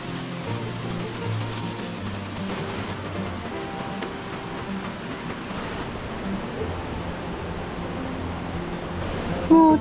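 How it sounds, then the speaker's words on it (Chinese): A waterfall on a forest hiking trail, with a cave behind it and a deep pool below, sends up a steady broadband rush of falling water that stays even and continuous. "这里有个瀑布哎"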